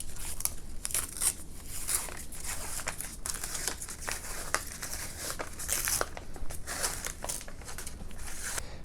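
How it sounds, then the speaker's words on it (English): Paper being torn away from a printed build sheet for a Mighty Mini FW-190 model, a run of close, sharp ripping and crinkling bursts repeating irregularly over several seconds with no voice. "Let's begin by tearing the paper away."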